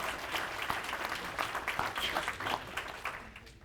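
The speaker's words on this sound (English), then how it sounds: "you can clap for that." An audience at a county GOP gathering with gubernatorial candidates breaks into steady applause, a dense patter of many hands clapping at moderate distance that continues throughout.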